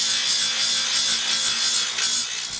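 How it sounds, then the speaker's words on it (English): An angle grinder grinds excess filler material off a cracked Lola T492 race car frame brace in a steady, loud, bright abrasive rasp, continuous and close with no talk. "We then use a grinder to remove any excess filler material."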